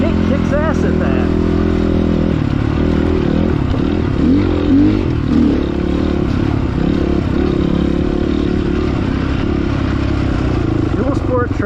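FSE300R dual sport trail motorcycle riding with a steady droning engine and rattling, clattering chassis and suspension noise, loud and continuous at close range.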